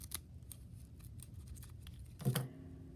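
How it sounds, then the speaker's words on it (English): Scissors snip at an angle through the folded tip of a paper snowflake, giving a short, close crisp cut near the end after soft paper handling. "To make the star in the middle of it, all you have to do is cut at an angle"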